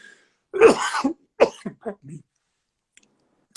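A sneeze, one sharp burst followed by a few short throaty after-sounds, close and loud in an otherwise quiet room.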